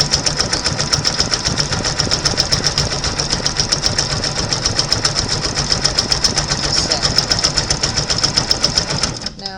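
An embroidery machine stitches the back of a baby lovey blanket in the hoop, giving a rapid, evenly pulsing needle clatter that runs steadily up close and then stops abruptly at the end.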